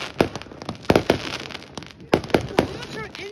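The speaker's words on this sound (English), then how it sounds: "There's still like 70 more fireworks." Consumer fireworks at a warm beach show go off in quick sharp bursts and crackling pops, several close and loud shots clustered in two volleys, with people talking between them.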